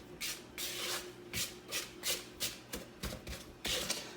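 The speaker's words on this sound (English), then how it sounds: "We're going to go ahead and gently incorporate the dry ingredients." A silicone spatula folds self-rising flour into blackberry cobbler batter in a bowl, making about ten soft, rhythmic scraping strokes close by.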